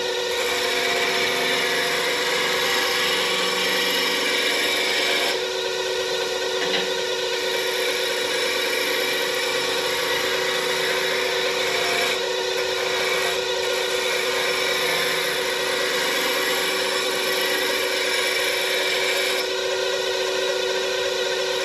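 Wood lathe turning a walnut pepper mill blank while a 3/4 inch roughing gouge cuts, a steady hum with continuous scraping and brief breaks in the cut, moderately loud and alone.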